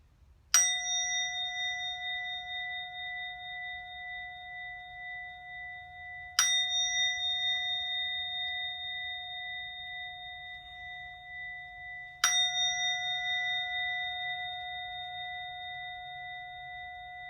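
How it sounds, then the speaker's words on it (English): A Tibetan meditation bowl is struck three times at even intervals, and each clear strike rings out into a long, pure, slowly fading tone in a quiet room. "I do 3 chimes on my Tibetan meditation bowl"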